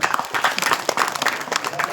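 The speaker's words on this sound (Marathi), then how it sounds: "सुनील खजुरेकरने करावा याच्यासाठी टाळ्या झाल्या पाहिजेत" A crowd claps continuously at a Dashavatar folk theatre performance in Jambare: dense, steady applause that fills the whole stretch, with a voice faintly mixed in.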